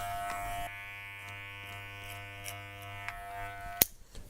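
Electric hair clippers hum steadily at close range while cutting a low fade on wavy hair, a continuous buzz with small tonal shifts as they move, ending in a brief sharp click.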